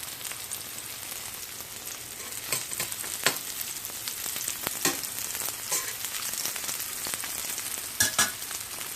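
Garbanzo bean patties fry steadily in a pan, a soft continuous sizzle with scattered louder pops and crackles throughout, no voices.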